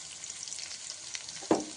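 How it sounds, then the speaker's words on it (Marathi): Finely chopped onion sautéing in a pan, a soft continuous sizzle close by with light crackles, then a single louder stirring knock near the end. "कांदा छान परतून झालेला आहे"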